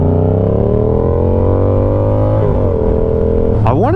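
A Yamaha R7 motorcycle engine pulls hard in a high gear toward top speed, a loud steady drone rising slowly in pitch, dipping briefly at a shift near the end before climbing again, with wind rush throughout.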